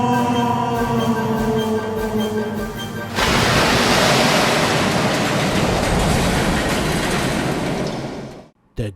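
A diesel locomotive plunging off a cliff: steady rumbling rail clatter suddenly swells into a loud, broad crashing roar that holds, then cuts off abruptly.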